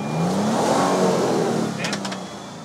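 A Toyota Sequoia TRD Pro in low range with lockers engaged revs hard off-road over ice, water and mud, its engine roaring loud and close, rising and then easing off amid splashing and rough terrain noise.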